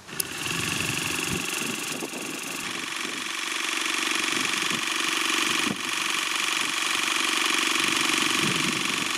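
A Youngdo cordless water flosser runs in normal mode, a continuous loud buzzing motor whine with pulsing texture, steady and close for the whole stretch.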